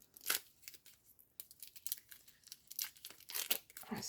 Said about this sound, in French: Je vais prendre le ciseau. Parce que ceux-là, ils sont chiants à ouvrir.